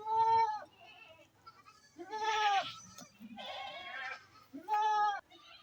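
Goats on a small farm bleat repeatedly and loudly at close range, about four wavering calls spaced a second or two apart, with quieter rustling and animal sounds between them.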